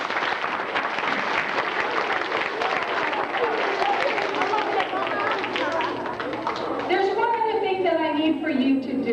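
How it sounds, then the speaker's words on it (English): Elementary school children in a school rally crowd clap steadily throughout, dense and sustained, with voices and a few shouts rising near the end. "So give yourselves a big round of applause."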